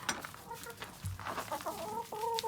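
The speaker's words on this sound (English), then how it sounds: "here they come" Chickens cluck and chatter nearby in a steady, busy stream, with short rising calls overlapping one another throughout.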